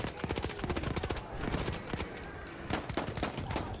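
Rapid automatic gunfire in a Battlefield 1 match, bursts of close shots rattling steadily over a noisy battlefield with no talking.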